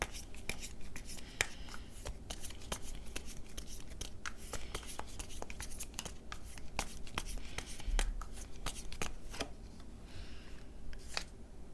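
Tarot cards being drawn and handled on a table, soft repeated slides, taps and shuffling flicks at close range, quiet and continuous with no talk.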